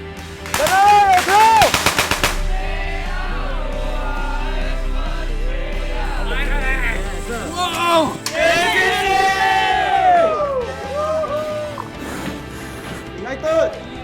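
Bursts of loud automatic gunfire ring out during a military officer training exercise. Shouted commands and yelling from a group of soldiers rise and fall around and after the shots.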